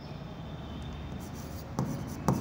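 Chalk or marker writing on a classroom board during an accounting lecture, a steady soft scratching with two sharper taps near the end, fairly close over a low room hum.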